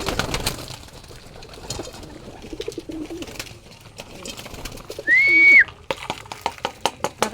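Pigeons coo softly in a busy spot, with scattered knocks, flutters and a brief whistle-like tone breaking through.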